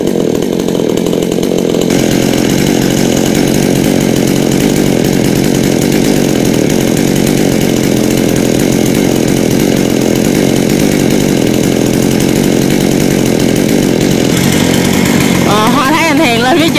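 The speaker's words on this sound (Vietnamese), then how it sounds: "nhờ ba của Hoa và nhóm đến đây để cưa tỉa cành bớt." Chainsaw pruning branches of Sao trees, running loudly and continuously close by, with the engine steady throughout and a brief shift in tone near the end.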